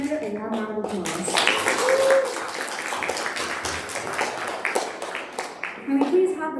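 An audience at a school student government debate applauds a candidate leaving the stage, with steady clapping filling the room and a voice heard over it at the start and end.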